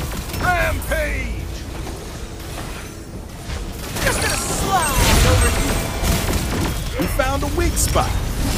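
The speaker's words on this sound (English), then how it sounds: "You made me call in airstrikes!" Booming airstrike explosions and crashing blasts in the Marvel Super War video game, loud and sustained in the second half, layered with game music, effects and character voices.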